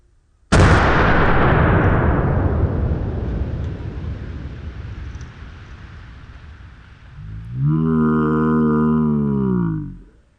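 A .50 BMG rifle fires into a giant clay block with one very loud, sharp blast. A long rumbling decay follows it, then a short burst of a voice exclaiming near the end.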